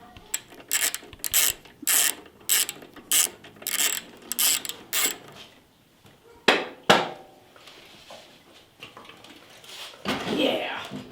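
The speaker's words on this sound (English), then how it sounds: "Need a pretty long extension for your ratchet" A ratchet on a long extension turns a bolt on a Royal Enfield Classic 350 Reborn, with rapid clicking bursts in short repeated strokes, close up, then pauses while people talk.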